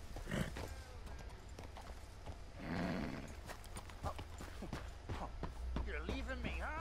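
A horse in Red Dead Redemption clops and snorts close by, with brief whinnies and hoof thuds, while someone talks over it.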